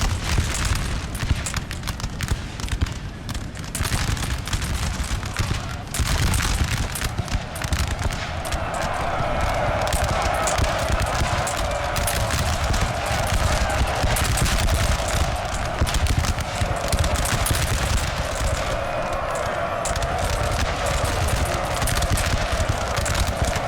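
Sustained musket volleys crackle without pause in a Napoleonic-era Napoleon: Total War battle, dense layered gunfire close and far over a steady roar, with no voices.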